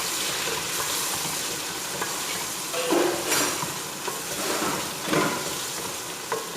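Mutton and beetroot sizzle in a pan with ginger garlic paste, a loud, continuous frying hiss with occasional stirring scrapes and bursts of spatter.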